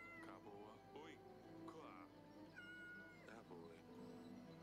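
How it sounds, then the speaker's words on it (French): A cat meows several times in a row, drawn-out and wavering cries spaced about a second apart, heard close over steady background noise with someone talking at moments. "Oh, le chat."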